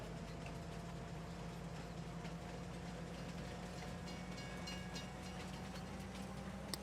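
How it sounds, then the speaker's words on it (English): A train in Farming Simulator 19, on the Alpine Farming Expansion's Erlengrat map, produces a quiet, continuous engine rumble and a steady hum that carry on evenly with no talking. "It's a cool train, though. I like this."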